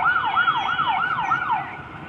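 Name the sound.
fire engine siren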